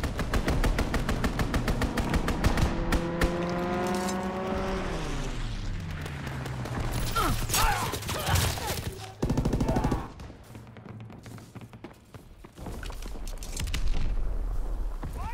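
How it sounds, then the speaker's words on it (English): Strafing-run machine-gun fire and explosions from Call of Duty: WWII, a dense volley of rapid shots with a descending aircraft engine sweep passing overhead, then booming impacts and bursts of gunfire fading out. "Strafing run incoming. Get to cover."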